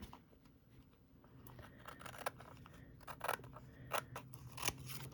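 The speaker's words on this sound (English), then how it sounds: "angling out and cutting the paper." Scissors snip through paper while trimming around the edge of a jewelry box lid, a run of crisp, close cuts growing louder and more frequent over a low steady room hum.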